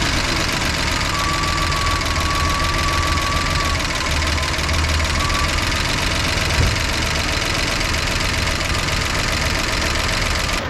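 A car engine idling after its idle screw was turned up about a quarter turn, a steady, loud, close rumble with a faint knocking texture and a brief thin whine near the start.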